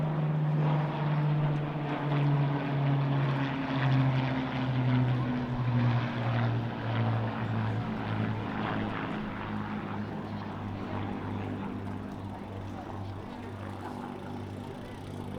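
A Blenheim light bomber in formation with Spitfires and a Mustang passes over a D-Day 80 airshow at Eastbourne, its propeller engines a steady loud drone with a falling pitch as the aircraft pass.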